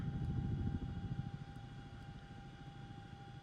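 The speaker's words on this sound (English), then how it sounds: "start slowing the helicopter down now." A Chinook helicopter slowing in flight gives off a faint, steady low rotor thump and engine drone with a thin whine above it, the pulsing beat easing slightly as it goes on, with no talking.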